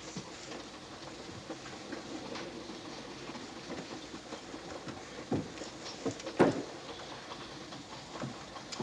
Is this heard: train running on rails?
yes